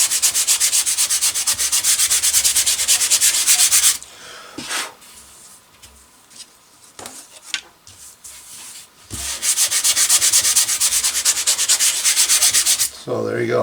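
Sandpaper rubs wooden RC airplane wing sheeting laid flat on a sheet of glass: a long run of fast, steady, loud back-and-forth strokes, a pause with a few scattered knocks, then another sustained sanding burst.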